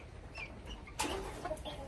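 A rooster on a homestead clucks faintly now and then, with a brief burst of wing-flapping near the middle against a quiet farmyard background.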